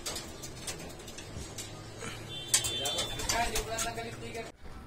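Homing pigeons cooing in a loft after returning from a south derby race of over 200 kilometres, soft repeated coos mixed with other bird calls under ongoing talk and background noise.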